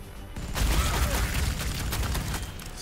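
Rapid storm bolter fire from Warhammer 40,000: Sanctus Reach, a loud, dense burst of gunfire that rolls on continuously with heavy low-end booms, staying close and unbroken throughout.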